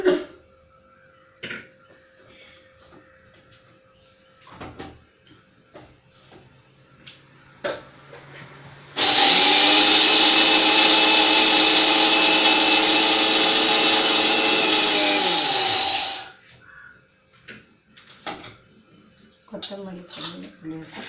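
Electric mixer grinding roasted spices, coriander seeds and tamarind pieces into puliyodharai powder, starting abruptly as a loud steady whine for about seven seconds then cutting off, with quiet handling knocks and clatter before and after.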